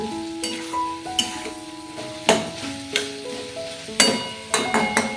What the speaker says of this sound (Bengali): এগুলো দিয়ে খুব ভালোভাবে মাছের ডিমের সাথে নেড়ে চেড়ে কষিয়ে নিচ্ছি